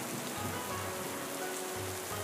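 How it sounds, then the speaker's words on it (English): Steady rain falling on a surface, a continuous dense hiss with no pauses, moderately loud and heard alone without any voices. "Today is raining."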